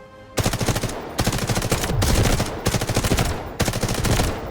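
Rapid automatic gunfire from a weapon in the shooter game Delta Force, loud and close, coming in several sustained bursts separated by brief pauses, with no talking.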